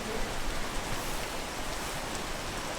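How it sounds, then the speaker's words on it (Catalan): Steady rain in the video game Peak, a dense even hiss of falling drops throughout, moderately loud and constant with no voices over it. "la pluja t'ha fotut d'aquí bastant, Dani?"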